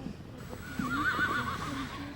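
A horse gives a clear, quavering whinny that rises and wavers for over a second, fairly close and loud, with faint background noise and no talking.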